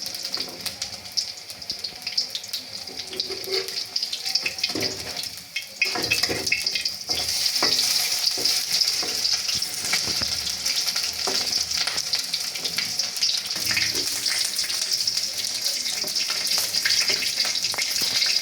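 Pumpkin flower fritters frying in hot oil give a loud, steady, close sizzle that swells after a few seconds, with occasional stirring scrapes and no voices over it.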